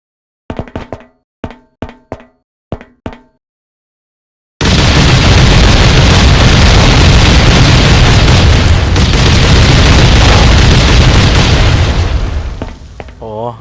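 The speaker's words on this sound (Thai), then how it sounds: "ตอนนี้น้องๆก็กำลังระเบิดบิวนอกด้วยระเบิดถังนะครับ" Tank bombs go off in the Last Island of Survival game: five short, sharp booms in quick sequence, then a long, loud roaring blast that fills the rest and fades out near the end.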